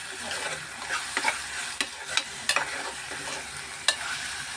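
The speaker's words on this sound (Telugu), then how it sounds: "ఉల్లిపాయలు టమాటాలు అయితే చాలా చక్కగా ఫ్రై అయిపోయినాయి కదా." Onions and tomatoes frying for an egg and dried prawn curry sizzle steadily in the pan, with a soft crackle throughout and a few sharp clicks and taps of a spoon against the pan.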